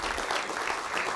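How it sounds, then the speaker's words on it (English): An audience applauds conference speakers at a UN Ocean Conference session on polar oceans, a dense, steady wash of clapping from many hands that lasts a little over a second without pause. "Please give a round of applause again to the speakers."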